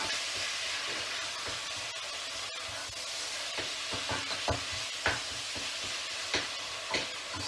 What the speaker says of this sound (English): So we're browning the mince off